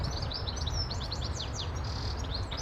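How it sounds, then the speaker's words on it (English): Birds chirp and sing outdoors in England, a busy run of quick high tweets and trills over a soft background hum, fairly close and continuous. "Can you hear the birds?"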